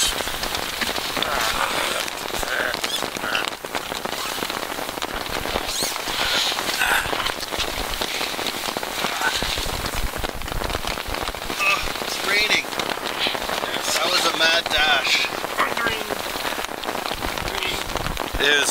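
Heavy rain pours down steadily at a campsite in Algonquin, a dense hiss of drops pattering hard on surfaces close by, with scattered louder splashes throughout.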